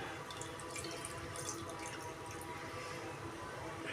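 Half a glass of water pours and splashes into a pan of dry chicken cooked with yogurt, a faint continuous trickle with soft dripping close by.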